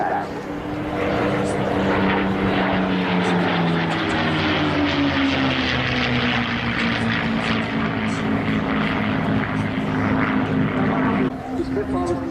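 A Spitfire's propeller engine drones steadily and loudly at an airshow, its pitch sliding gradually as the aircraft passes, with a commentator talking over it.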